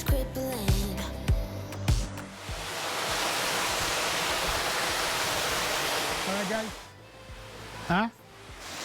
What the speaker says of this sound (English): We already found our first waterfall.